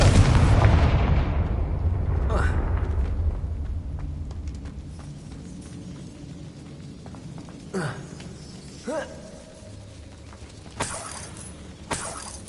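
Confringo spell explosions in the video game Hogwarts Legacy: a big booming blast that rumbles and fades, followed by several smaller sharp impacts and whooshes.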